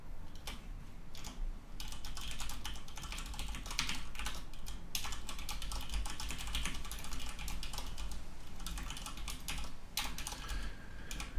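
Rapid typing on a computer keyboard, with a dense stream of close key clicks in an irregular rhythm that continues without pause and without any talk.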